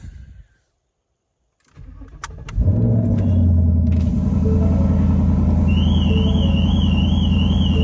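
A Ford Mustang 10-speed fitted with an aftermarket intake and exhaust fires up for its first cold start of the morning after a brief silence, then settles into a loud, steady rumbling idle. A warbling car alarm joins in near the end.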